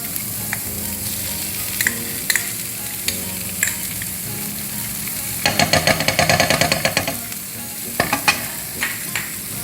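Capsicum sautéing in a pan for a cheese chili sandwich, a loud continuous sizzle with bursts of stirring and scraping clatter from a spatula, close and without talk.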